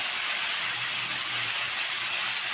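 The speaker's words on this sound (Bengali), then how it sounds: "এখন দিয়ে দেবো এর মধ্যে কেটে রাখা সবজি" Cut vegetables for shukto, including potato, eggplant, bitter gourd, drumstick and papaya, sizzle in hot oil with a steady, dense hiss that holds evenly from start to finish.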